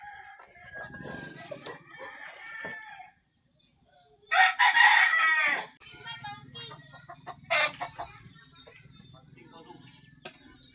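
A rooster crows loudly nearby, with softer clucking and faint talking before and after.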